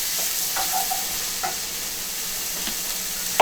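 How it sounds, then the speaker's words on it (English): Onions sizzle gently in oil in a preheated skillet, giving a steady, even hiss with a few faint clicks of a utensil. It is close and fairly quiet, and no one talks. "We're going to caramelize the onions a little bit"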